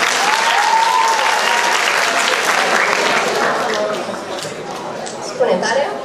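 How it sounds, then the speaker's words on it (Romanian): Loud crowd applause breaks out at a school freshman ball in 2019, continuous clapping with some chatter that eases off slightly toward the end, followed by a brief louder burst. "Aplauze pentru Andrei"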